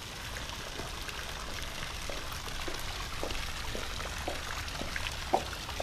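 Pool waterfall feature at a Hollywood Hills home, a soft steady splash and trickle of falling water, faint and continuous with a brief louder drip near the end.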